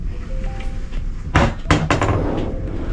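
A few sharp wooden clunks and knocks close by as a cabinet drawer in a cruise ship cabin is pulled open and bumps to a stop.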